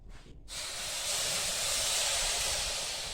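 Water hits sugar in a hot pan for caramel: after a brief quiet moment, a loud steady hissing surge of steam and sizzle takes over and holds, with no voices.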